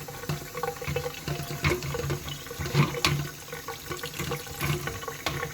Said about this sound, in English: Wash all that grease off.